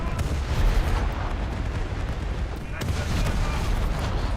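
Naval gun shells firing in a warship video game, a heavy, continuous rumbling barrage of booms layered over one another, loud and close, with a voice talking over it.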